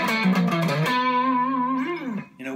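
Clean electric guitar notes from a PRS SE Zach Myers humbucker pickup ring out with a warm, rounded tone, a few plucked notes then a long sustained one that bends slightly before fading.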